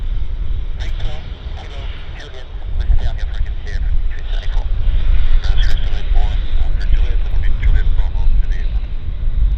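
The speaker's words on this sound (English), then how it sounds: "Terrific performance here on the A350, touching down at Vancouver, runway 26 right." An Air France Airbus A350 touches down on runway 26 right at Vancouver airport with a steady, loud roar of jet engines and wind rush. Someone talks continuously over the noise.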